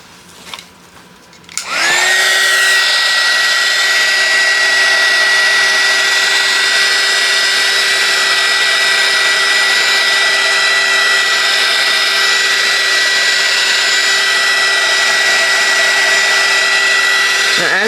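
Hair dryer switched on and left running at full power over a black, white and gold acrylic paint pour, a loud, steady whining roar that starts after a brief soft rustle and holds alone without a break.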